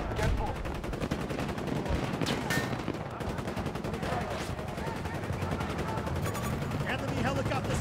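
Battlefield 2042 small arms gunfire rattles in rapid, dense bursts and sustained automatic fire throughout, loud and close, with voices talking over the shooting.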